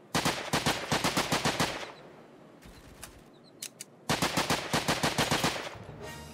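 Flint pistol gunfire in the Roblox game: rapid bursts of loud, sharp repeated shots, a first volley, a quieter stretch with a few isolated pops, then another fast volley.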